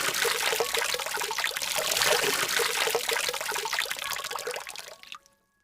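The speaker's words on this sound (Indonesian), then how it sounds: "keran di kamar mandi tiba-tiba hidup kembali" A bathroom tap running into a basin, a loud, close, steady splashing stream that fades and stops abruptly near the end.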